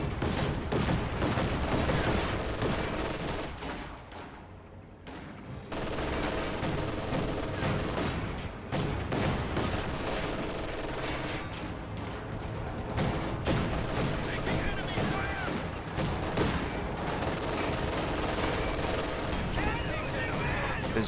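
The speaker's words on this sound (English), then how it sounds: "50 cal firing on this position will suppress 3 squads, including the MG42" Heavy gunfire from a .50 cal machine gun and bazooka in a wartime strategy game, a dense continuous barrage of shots and booms filling the whole stretch with a brief lull near the start.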